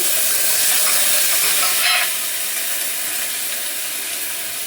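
Chopped onion and tomato hit very hot, smoking oil and sizzle in a loud, dense, steady hiss that flares briefly, then settles a little quieter and continues without pause.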